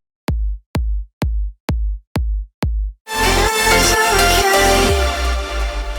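Six punchy, deep mono kick drum hits in a progressive house track thump alone at an even pace, then a dense full mix bursts in and carries on loudly.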